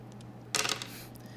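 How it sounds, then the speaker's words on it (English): Dice tumble and rattle across a hard surface in one brief clattering burst of several quick clicks, close by, in an otherwise quiet room during a practical math lesson. "Just keep rolling the dice here until we run out of options."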